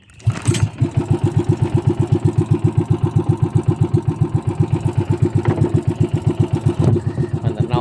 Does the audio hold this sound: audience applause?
no